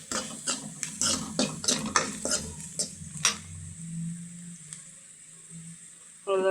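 Onions and spices sauté in a pan for chilli powder rice. Rapid scraping stirs crackle over a sizzle, then settle into a quieter simmer, and a voice comes in briefly at the end.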